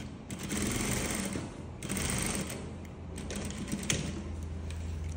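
A sewing machine stitches an invisible zip in rapid, chattering bursts, with short pauses between runs of fast needle clatter, close and moderately loud with a low motor hum underneath.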